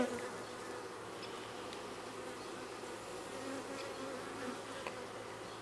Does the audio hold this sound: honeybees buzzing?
yes